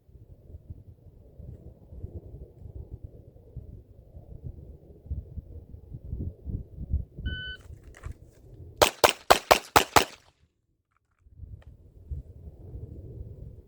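Springfield XDM Elite pistol fired in an appendix-carry shooting drill: a rapid string of about six sharp, loud shots in quick succession, preceded by rustling and a timer beep, then a short silence.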